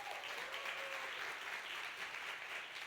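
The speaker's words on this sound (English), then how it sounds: "Please give a round of applause to Dr. Andrew Stotz here." Sustained applause from an audience at a startup demo day fills the room, a dense, even wash of clapping lasting the whole stretch without pause.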